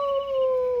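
A dog gives one sustained howl at night, a close, steady tone that lasts just under a second with nothing else heard.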